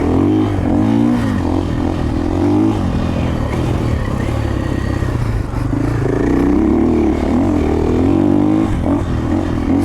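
A 2024 KTM 450XCF-W dirt bike engine roars loud and close while riding, with rising and falling revs held without clutching, plus clatter and scraping from the track.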